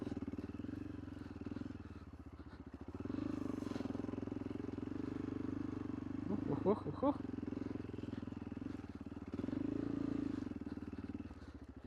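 A Kovi ADT 300 enduro motorcycle ridden offroad, its engine droning steadily close by with small rises and dips in pitch, and a brief burst of voice partway through.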